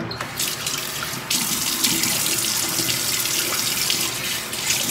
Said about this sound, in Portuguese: Eu vou molhar o meu rosto rapidinho aqui.